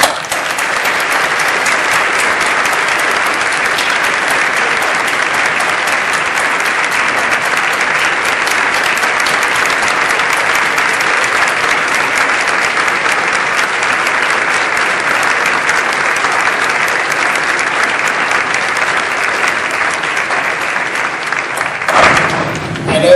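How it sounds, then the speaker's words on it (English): Audience at a school graduation applauding: dense, sustained clapping from a large crowd at an even level for over twenty seconds, cutting off abruptly near the end. "I'd like to ask all of us to give Mrs. J a great round of applause"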